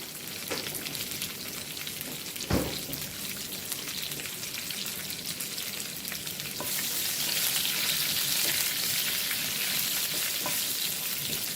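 Curry leaves crackle and sizzle in hot oil, a steady close frying hiss with scattered pops, and one stir or clatter early on; the sizzle swells louder partway through.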